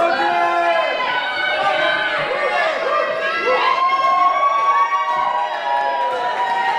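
Loud, close crowd cheering and shouting at a boxing fight in a drill hall, a dense sustained roar of excited voices with rising whoops throughout.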